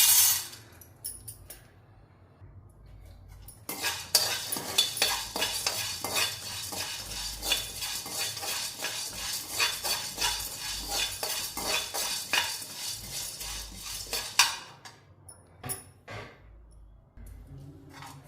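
Chana dal is dry roasted in a pan while being stirred, producing a continuous scraping and rattling of the lentils against the metal, with light, irregular clinks from the spoon and no talking.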